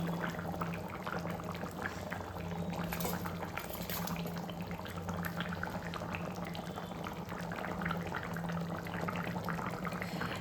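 Spicy chicken curry with coriander leaves boils steadily in a pot, a continuous close bubbling and simmering texture with soft pops throughout, no voices.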